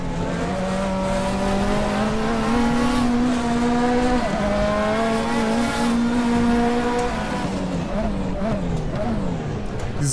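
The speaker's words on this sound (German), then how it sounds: "Dieses Runterschalten macht einfach so eine Menge Laune, Leute." A Nissan Silvia Turbo Group 5 race car at Zolder in RaceRoom, its engine droning loudly at steady high revs, then dropping pitch in a series of downshifts with brief blips, while someone talks over it.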